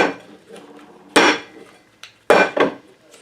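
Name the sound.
homemade cheese flipped out of a mould onto a plate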